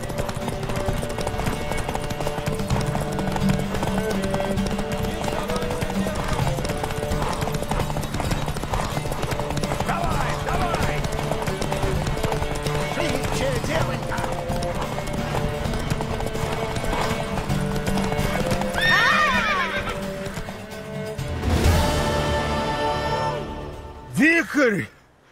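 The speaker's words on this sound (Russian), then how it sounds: "Скачем на перегонки до башни." Hooves clip-clop rapidly and continuously as horses gallop in The Witcher 3: Wild Hunt, with people talking over them, a whinny rising near the end.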